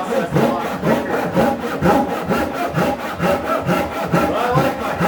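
A hand saw cuts through a 1x4 wood board with fast, even back-and-forth strokes, a close, steady rasping rhythm that continues throughout with no pauses or voices.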